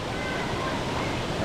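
The waterfall at Orok Cold Spring Resort in Sorsogon pours with a powerful, dense, unbroken roar that fills the whole stretch at close range and stays loud and steady throughout.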